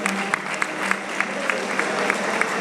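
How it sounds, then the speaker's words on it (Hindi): Audience applause at a public talk, a steady wash of clapping from a crowd that carries evenly through the whole moment, with a few sharper claps standing out. "तालियां बजाइए पूरे जगदीश चंद्र बोस के नाम।"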